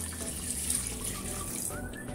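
Water pours steadily into a pressure cooker holding a chicken breast with garlic and dry seasonings, a continuous tap-like splashing stream heard close up and alone.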